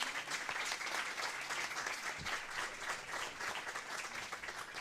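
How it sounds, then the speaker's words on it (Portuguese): Steady, dense audience applause at a public event for child and adolescent dignity, welcoming federal deputy Tabata Amaral to the table, a full wash of clapping holding evenly throughout. "peço que você tenha o nosso aplauso"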